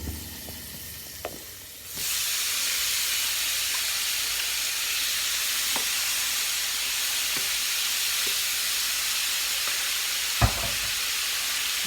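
Shrimp hit hot oil in a pan and set off a steady, loud sizzle that holds for about ten seconds, broken by a few faint clinks and taps.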